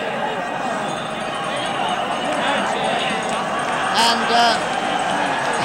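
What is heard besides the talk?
Cork crowd chanting and roaring at a hurling final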